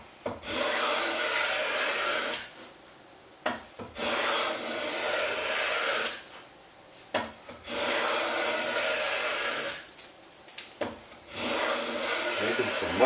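A Stanley No.65 low angle block plane with a chipped throat shaves wood in four long, loud rasping strokes, each pass lasting about two seconds, separated by short quiet gaps and handling noises.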